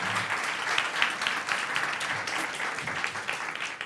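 An audience at a startup incubator pitch and expo event gives a steady round of applause, dense continuous clapping at moderate volume with no talk over it.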